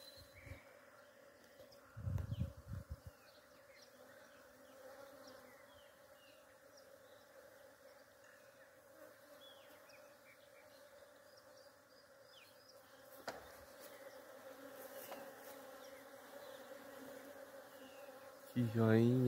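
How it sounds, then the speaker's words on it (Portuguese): Many bees buzz around a flowering pitanga (Surinam cherry) tree, a steady dense drone holding throughout, with a few brief louder thumps and rustles near the start and end. "Muita abelha."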